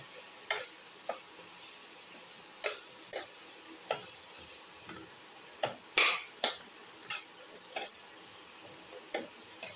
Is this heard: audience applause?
no